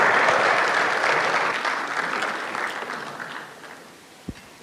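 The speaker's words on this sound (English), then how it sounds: "Another big round of applause." A big round of applause from a business seminar audience giving a standing ovation, loud at first and gradually thinning and fading, with a single thud near the end.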